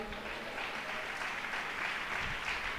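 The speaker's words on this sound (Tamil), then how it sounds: "அந்த நல்ல தகப்பனுக்கு ஒரு கைதட்டு கொடுங்க பார்க்கலாம்." Church congregation applauding at a Tamil Christian sermon: steady, dense clapping that stays even and fills the whole stretch.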